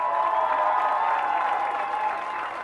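Steady applause and cheering from a crowd of fans at an under-17 youth football championship final, a dense continuous roar of clapping that stays loud throughout and eases slightly near the end.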